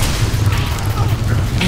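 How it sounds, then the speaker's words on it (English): Cannon fire in the Warhammer Online video game, a deep booming rumble that runs continuously through the moment amid battle noise, with faint voices mixed in. "Cannon fire!"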